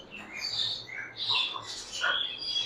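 An adult male African grey parrot, a breeder about five and a half to six years old, gives a few close, sharp whistles and squawks in quick succession.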